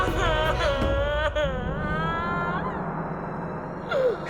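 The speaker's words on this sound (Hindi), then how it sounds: "ये किसकी रोने की आवाज है?" An eerie, drawn-out wailing cry in a horror show, rising and falling in long melodic sweeps over a low rumbling drone, with a second brief wail near the end; no one speaks.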